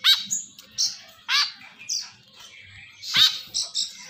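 A kekep babi bird gives a series of sharp, high chirping calls in short separate bursts, fairly close and clear against a quiet background.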